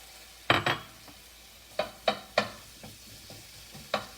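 Onions go into a pan for apple cider chicken. A few sharp utensil scrapes and taps sound close over a faint sizzle, with quiet gaps between strokes.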